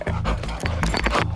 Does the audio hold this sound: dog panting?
yes